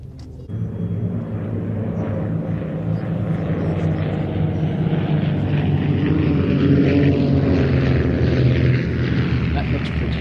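Display team aircraft flying in formation at a Midlands airshow, a steady loud propeller-engine drone that holds throughout, broad and rumbling without pause.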